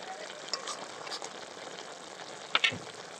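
Ghee and a spice mix cook in a pan for shukto, a Bengali mixed-vegetable dish, giving a faint, steady sizzle with a few soft clinks and stirring scrapes near the end; no one talks.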